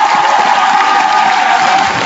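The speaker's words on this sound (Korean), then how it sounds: "우리 규정군의 더블 찬스를 해서 박수 한번 주시고" Studio audience at a Korean TV guessing game show with SS501 applauds in an even, sustained patter of clapping, loud and close with light crowd cheering mixed in.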